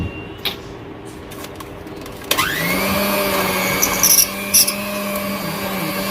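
An electric hand mixer starts up with a sharp whine partway through and then whirs steadily while beating tutti frutti cake batter, loud and close with faint clicks before it starts.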